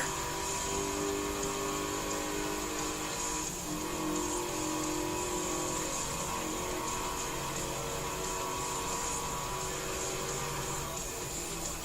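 Steady, loud engine drone of a car in Forza Horizon 3, holding a high revving pitch throughout with small shifts as it accelerates.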